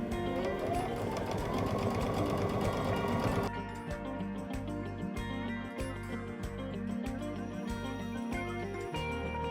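A sewing machine runs steadily along a charm pillow seam, a close, continuous motor whir that shifts partway into a slower, rhythmic thumping stitch.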